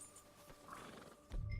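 A horse in the video game Red Dead Redemption 2 lets out a whinny, a faint wavering neigh in the middle followed by a low snort or rumble near the end, with no talk.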